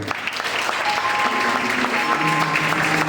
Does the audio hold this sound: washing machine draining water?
no